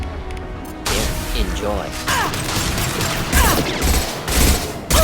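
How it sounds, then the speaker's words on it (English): High-impact weapon shots from a Mass Effect 2 battle boom in heavy, repeated blasts with mechanical clatter, loud and near, while a voice speaks over the combat. "Firing a high-impact shot."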